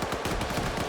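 Machine gun fire in the video game Arma 3, a rapid burst of closely spaced shots in an even rhythm, loud and alone for under a second.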